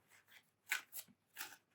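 Tarot cards are shuffled by hand in a few soft, brisk bursts of papery rustle, quiet and close with no talking.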